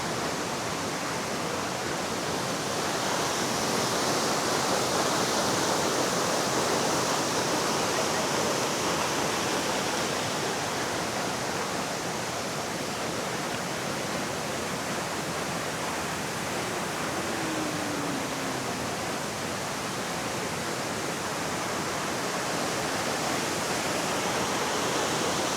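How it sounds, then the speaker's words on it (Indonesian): Coban Lanang waterfall in Batu, a steady loud rushing roar of falling water, continuous broadband hiss throughout, close and unbroken with no speech. "Jadi seperti ini kondisi air terjun Coban Lanang ya."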